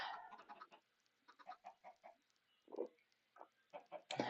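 Chickens cluck repeatedly in the video game Minecraft, a string of close, choppy clucks and squawks in irregular bursts, with no talk over them.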